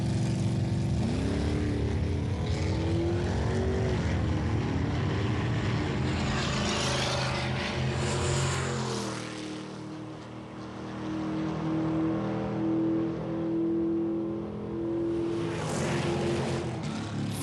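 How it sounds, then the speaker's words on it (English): A '66 Ford Fairlane and a Trans Am drag race at a 1992 muscle car event, with loud, heavy engine roar that climbs through gear changes, dips partway, then swells again as a car passes close. "Butch Foster's '66 Fairlane running Randy Vivian's Trans Am."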